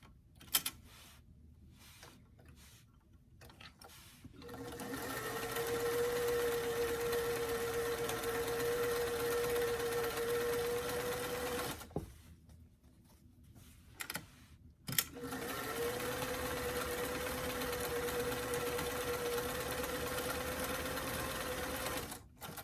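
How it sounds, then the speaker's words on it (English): A sewing machine runs a wide zigzag stitch along the bottom edge of pants in two long steady bursts with a steady whirring drone, close by, separated by a short pause and a few clicks. "I'm just going to run a wide zigzag stitch across the bottom because I like to zigzag things before I hem them"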